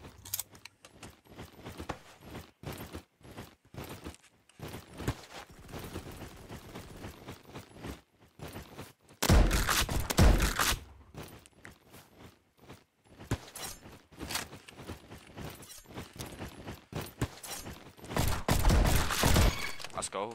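Shotgun blasts in the Roblox shooter Bad Business, heavy bursts of firing in two main clusters with quieter clicks and mechanical sounds between, mixed with game effects.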